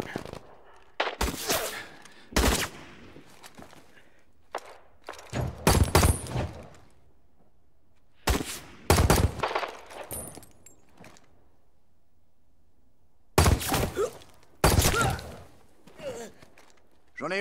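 Loud bursts of gunfire erupt in a film shootout, clusters of sharp shots separated by short silences, with voices shouting between volleys.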